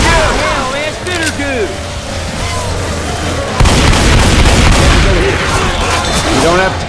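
Gunfire in the zombie shooter Left 4 Dead 2, with dense bursts of shots and booms running continuously and growing heavier midway, while several players shout and talk over the fighting.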